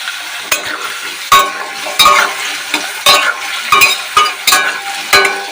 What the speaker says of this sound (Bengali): আলুগুলো ভালো করে ভেজে নিতে হবে।